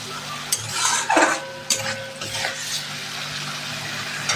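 Eggs being stirred into frying turmeric and chilli masala for a Bengali egg curry, soft sizzling under a few scraping and clinking strokes of a spatula against the pan.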